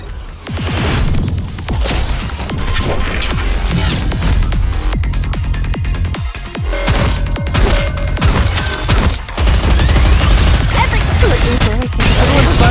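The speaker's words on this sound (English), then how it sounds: "Everyone's firing all at once." Gunfire in the NIKKE video game with everyone shooting at once, a dense, loud, unbroken barrage of overlapping shots and impacts lasting throughout.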